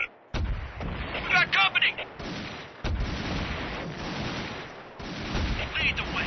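Gunfire and artillery blasts from the real-time strategy game Army Men RTS, a loud, dense barrage of bursts and booms with a brief quiet gap, heard under a voice speaking.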